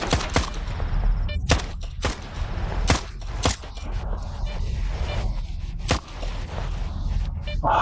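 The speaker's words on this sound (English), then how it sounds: "My goodness, I'm shooting at a barrel. I've just wasted how many rounds?" Gunshots ring out in a VR shooter as a player fires at a barrel: sharp, loud single reports at irregular intervals about a second apart, over a busy game background.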